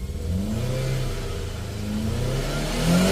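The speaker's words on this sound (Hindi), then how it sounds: "रेस देकर धुआं चेक करना पड़ेगा कि वो डाउन तो नहीं है। पहले एक बार रेस दो।" A car engine with a faulty head, about 92,284 km on it, revs steadily to check for smoke. It gives a loud, sustained mid-pitched drone that wavers slightly and rises again near the end.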